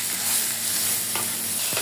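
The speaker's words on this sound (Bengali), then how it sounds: "এই 2 মিনিটের জন্য একটু ভাজে নেব চিংড়ি মাছগুলো পেঁয়াজের সাথে।" Shrimp frying with sliced onions, turmeric and salt in a pan on a stovetop, giving a steady close hiss of sizzling oil with a brief stir or scrape near the end.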